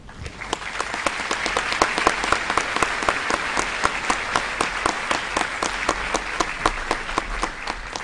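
A graduation commencement audience applauds to welcome a graduate speaker, a dense steady wash of clapping with a few sharp distinct claps standing out, loud and sustained throughout.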